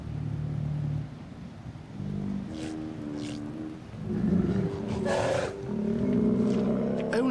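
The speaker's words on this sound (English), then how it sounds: "He advertises his strength by rearing up his massive head and neck and roaring" A sea lion bull roars on his breeding-beach territory, giving deep, harsh, drawn-out bellows that swell and fade over several seconds, close and loud above a steady low rumble of surf.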